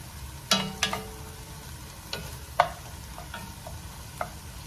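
Meat frying in a hot pan for meat sauce, a soft continuous sizzle beneath a few sharp clicks and scrapes as the meat is turned, no talk.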